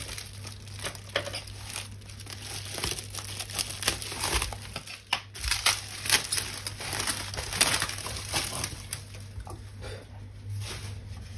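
Crinkling and crumpling of packaging as a well-packed parcel holding a Christmas lamp is unwrapped, close and busy with irregular rustles and small tearing sounds, a low steady hum underneath.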